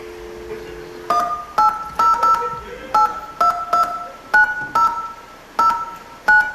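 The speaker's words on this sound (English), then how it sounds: "All right, let's dial." Telephone keypad DTMF dialing tones, with about a dozen two-note beeps in an irregular rhythm, each short and fairly loud, against a quiet room.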